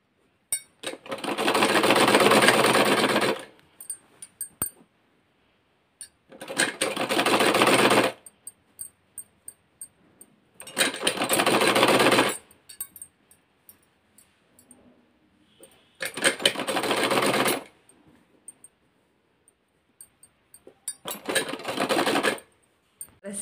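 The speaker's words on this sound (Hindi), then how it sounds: "देखिए इस तरह से रख करके यहाँ पर हम सिलाई लगा लेंगे।" A sewing machine stitches a round foam pillow cover in five loud, sustained bursts of rapid mechanical chatter, each lasting a couple of seconds, separated by quiet pauses with faint clicks.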